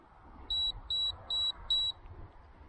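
A Hawkeye FireFly X Lite HD action camera gives four short, evenly spaced high-pitched beeps as it switches mode, clear over a faint background hiss.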